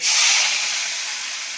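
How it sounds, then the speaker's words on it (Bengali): Prawns dropped into hot oil in a heated wok give off a loud, steady, bright sizzle. It starts sharply and holds for about a second and a half with no voices. "চিংড়ি মাছগুলো আমি একটু ভালো করে ভেজে নিই"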